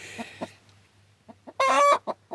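Backyard laying hens give soft clucks and murmurs, then a louder drawn-out squawking cackle near the end, close and fairly quiet with gaps of near silence between calls.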